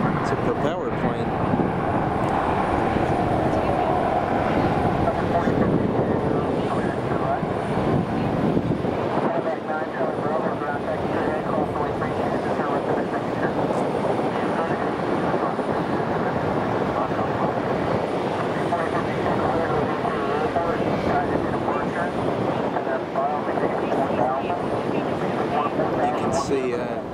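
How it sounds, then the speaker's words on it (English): A steady, loud propeller plane drone fills the whole stretch as it lands, with heavy wind rumble over the microphone and no clear speech. "It's a propeller plane."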